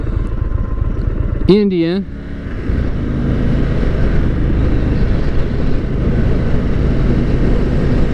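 An Indian motorcycle ridden on a highway, its engine a steady rumble under wind noise throughout, with a brief rising tonal whine early on and someone speaking over the ride.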